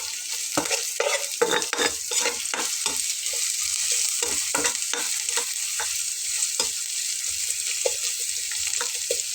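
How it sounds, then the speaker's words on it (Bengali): Whole cumin and nigella seeds fry in a pan over medium heat while being stirred, giving a continuous soft sizzle broken by repeated scraping and stirring strokes, with no talk. "তো এরপরে আমি একটু নেড়ে দেব, হালকা একটু ভেজে নেব।"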